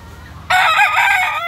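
A rooster crows loudly and close by, one long strained cock-a-doodle-doo rising out of a quiet background partway through.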